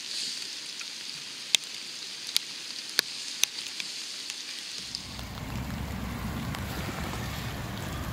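Heavy rain pours down steadily during carp fishing on the Saône river, a broad roaring wash that swells louder midway through, with a few sharp ticks and taps up front.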